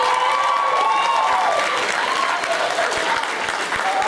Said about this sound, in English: Come on, more applause for that.